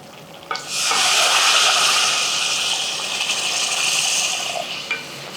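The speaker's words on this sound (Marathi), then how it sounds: "आणि आता यामध्ये 2 कप गरम पाणी म्हणजे 400 ml गरम पाणी." Hot water poured into a simmering rohu fish curry in a pan, a loud steady rushing splash lasting several seconds that starts abruptly and tapers off near the end.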